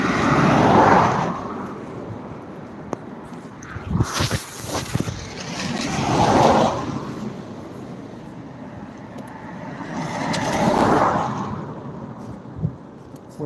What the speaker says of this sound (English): it might get a little bit noisy with the traffic coming past